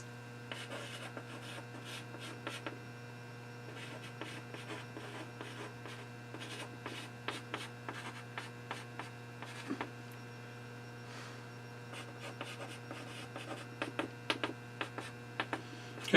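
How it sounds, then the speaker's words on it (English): A math problem on reflections written out by hand, with faint, close pen or pencil scratches and taps in short bursts over a steady low mains hum and no talk. "so I'm going to have to write it out."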